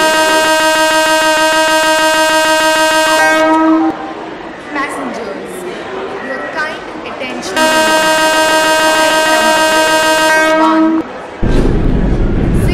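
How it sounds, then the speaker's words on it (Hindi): Electric locomotive horn on the Mithila Express departing Howrah Junction in Indian Train Simulator: two long, loud, steady blasts, separated by a stretch of rumbling engine and rail noise, with the train getting under way. "चलिए हॉर्न मार के डिपार्ट करते हैं जल्दी से।"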